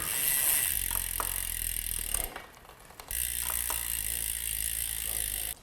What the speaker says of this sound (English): I'm going to undo the pinch bolts on the left-hand crank arm. Undo them bit by bit.